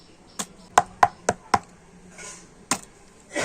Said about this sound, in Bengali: আর এবার আমি বাটিগুলোকে একটুখানি করে ঠুকে আর ব্যাটারটাকে একটু ভালো করে সেট করে নেব।